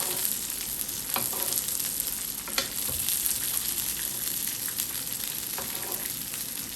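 Sirloin steak sizzles steadily in a pan while being basted, a dense continuous frying hiss with occasional louder spits and pops, close and without talk.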